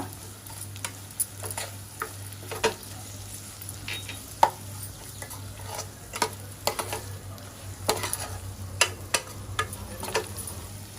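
Grated coconut is stir-fried in a pan for a Koli-style prawn masala: repeated scraping spatula strokes and light ticking taps over a low, continuous sizzle, close and fairly loud.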